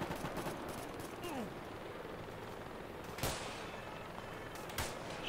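Gunfire in ARMA 2 arrives as scattered distant cracks and a couple of sharper nearer shots over a steady noisy battlefield bed, with voices talking in between.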